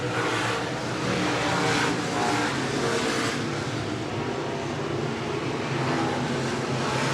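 Stock cars race around Clay County Speedway with a continuous loud engine roar, several cars droning together in single file, close and steady throughout.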